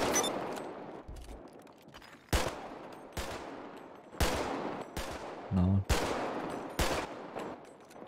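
Sharp gunshots from an MP5 fired by a first-time shooter in a game, single loud cracks spaced about a second apart, each with a short decaying tail.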